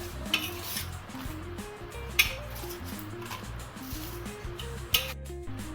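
Pieces being tossed in a bowl to coat them for Chinese-style frying: a continuous rattle and clatter of the bowl with a few sharper clinks, moderately quiet, over a low background hum.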